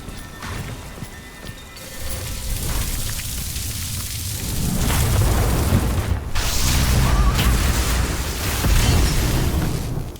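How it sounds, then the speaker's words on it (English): Magic-style rain effect within a sound design reel, a dense rushing patter layered over low rumbling booms that swells steadily louder across the passage with no speech. "I like this kind of like magic rain sound going on"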